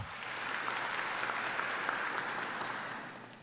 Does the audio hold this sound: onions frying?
no